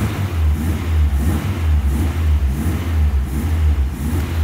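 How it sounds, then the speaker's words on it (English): A 1980s hot hatch barn find with a Porsche injection system, engine running rough and missing on one cylinder, revved in uneven surges, loud and close, with a lumpy low rumble and no talking. "Okay, so while I'm playing with the revs, seems to be picking up."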